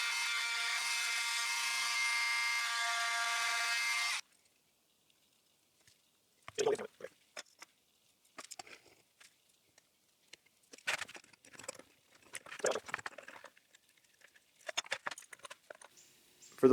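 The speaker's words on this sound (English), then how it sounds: "So I'm going to use the oscillating tool and just trim these where basically the corner will match up." An oscillating multi-tool trims glued wood shelf pieces, a loud steady buzzing burst for about four seconds, followed by quieter scraping and handling sounds.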